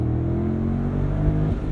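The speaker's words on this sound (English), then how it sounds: "the sound of that V8 now that it's untapped, now that the active exhaust is open" A Mercedes-AMG SL 63 V8 with its active exhaust open rumbles loudly from close by, a deep, throaty engine drone holding steady with slight rising revs.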